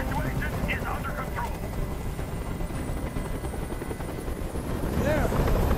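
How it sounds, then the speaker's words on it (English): A helicopter in the video game Detroit: Become Human gives off a steady rotor roar that fills the whole stretch at moderate level, with faint voices and game sounds layered over it. "I can't stand that noise anymore! Tell that helicopter to get out of here!"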